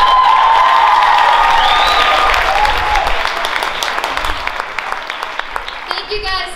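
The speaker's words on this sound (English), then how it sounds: "let's give the cosmetology class one more big round of applause" Loud audience applause with cheers and whoops at a high school prom fashion show, strongest at first and thinning into scattered claps as a voice talks over it.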